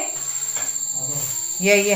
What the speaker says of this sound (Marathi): खूप रातकिड्यांचा आवाज येतो आज